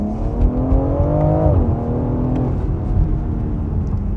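The engine of a 2020 BMW X3 M or Jaguar F-PACE SVR revs up in cabin view, with a steady climbing tone that peaks, drops sharply, then settles into a lower drone.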